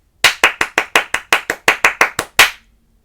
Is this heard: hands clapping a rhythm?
yes